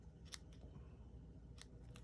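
Scissors snip ribbon on a handmade Stampin' Up! heart oval thank-you card, with a few faint, short cuts spread over steady low room hum.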